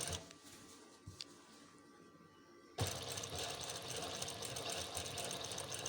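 Domestic sewing machine stitching a neck seam on cloth, starting abruptly partway through as a loud steady mechanical whirr that runs to the end, with only quiet handling sounds before it.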